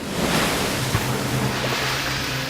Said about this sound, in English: tossed by the waves